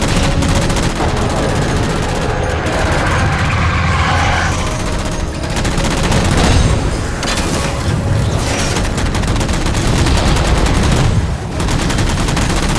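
Sustained gunfire from Halo 4 as three jammers are shot down, a dense continuous barrage of shots and impacts running loud throughout with no pauses.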